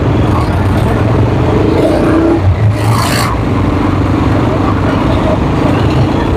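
Motorcycle riding through traffic in Manila along Taft Avenue gives a continuous loud road roar with engine whir, wind rumble and passing vehicles, including a brief hissing burst midway.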